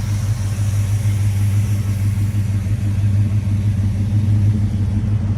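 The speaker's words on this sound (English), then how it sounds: "stainless steel boiler mufflers. Competition race mufflers." A 1969 Dodge Charger R/T V8 with stainless steel competition race mufflers idles continuously and loudly, a deep, steady, throaty low drone from the exhaust with no breaks.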